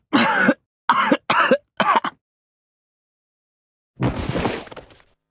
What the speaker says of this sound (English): Akira crumpled to the floor, coughing violently.